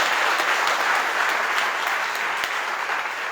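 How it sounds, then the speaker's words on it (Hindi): Audience at an IMC network marketing seminar bursts into loud, sustained applause, a dense steady wash of many hands clapping close by with no talking over it. "एक बार आईएनसी के लिए जबरदस्त ताली"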